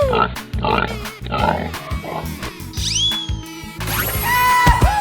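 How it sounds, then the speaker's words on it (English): In a 3D animal video game, a pig grunts and squeals in rough bursts over a pulsing electronic music beat, with a rising whoosh near the end. "Pig."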